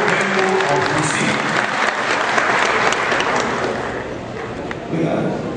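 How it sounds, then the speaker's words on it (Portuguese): Audience at a coffee seminar in the Cerrado applauding to welcome a speaker: dense, sustained clapping from a large crowd, steady and loud throughout, with some voices mixed in. "Eu gostaria que esta seleta plateia o recebesse com uma grande salva de palmas."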